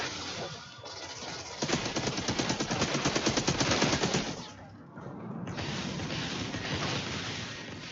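Rapid automatic gunfire in the Outriders shooter game, a dense stream of loud shots that swells, pauses briefly, then resumes as steady firing, with no talking.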